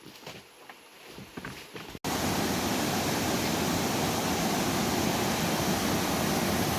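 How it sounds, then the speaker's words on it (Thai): The Tad Noi Tad Yai waterfall, heard as a loud, dense, constant rushing roar that starts abruptly after two seconds of quieter outdoor sound and continues evenly to the end. "อันนี้สิเป็นน้ำตกตาดน้อยตาดใหญ่"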